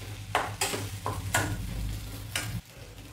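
Spiced potato filling for vada pav is stirred in a hot pan, a few distinct scraping strokes sounding over a steady low sizzle, close and fairly quiet, with no voices.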